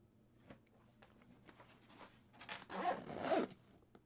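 A zipper on a retro game console carrying case is pulled open in a couple of quick, soft rasping strokes near the end, after a few faint handling rustles in a quiet room.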